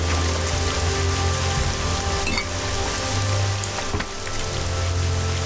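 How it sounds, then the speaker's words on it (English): Heavy rain in the video game Nehrim, a dense, steady hiss of downpour with a low rumbling undertone, continuous and even throughout with no voices. "when it's raining this badly,"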